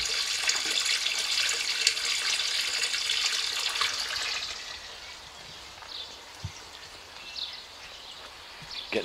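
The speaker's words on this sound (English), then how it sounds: "So it's just the water pumping in" Water gushes into a car being filled up, a loud rushing flow that drops off midway to quieter trickling and occasional drips and knocks.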